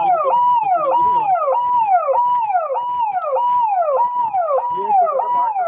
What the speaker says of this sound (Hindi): आप देख सकते हैं कि जैसे एम्बुलेंस आ रही है,